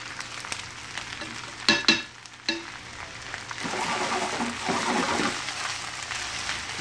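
Spinach wilting in a pan for a giant omelet, a steady close sizzle with sharp clatters and scrapes from stirring, the frying hiss growing fuller in the second half.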